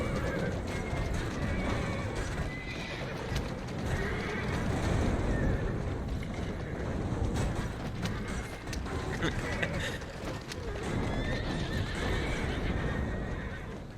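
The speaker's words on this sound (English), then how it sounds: "We had 2 carriages after us" Horse-drawn carriages gallop in pursuit in a video game, with steady clip-clop hooves, neighing horses and rattling wheels and gears close by, continuous and loud throughout, while people talk over it.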